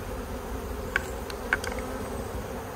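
Steady buzzing of many honeybees fills the background, a dense continuous hum, with a couple of brief sharper clicks as bees are put into a mite-count wash kit.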